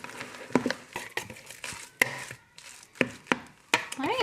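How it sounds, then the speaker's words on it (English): Spinach and cheese manicotti filling being mixed in a bowl, a close series of irregular knocks and scrapes from the utensil, moderately loud, with no talk. "we're going to mix all this up together as well"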